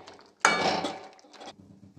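Metal utensil clatters against a pan of green bean curry in a home kitchen, a single sharp clink followed by about a second of scraping stirring and a lid-like rattle, fairly close, then quiet.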